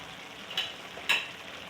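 Green chillies dropped into a pan of cooking chicken vegetable rice give two brief, soft sizzling hisses over a quiet background.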